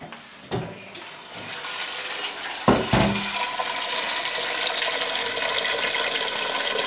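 Water pours from a tap into a pot of cleaned beans, with a steady rushing splash that swells after a couple of knocks and keeps running to the end.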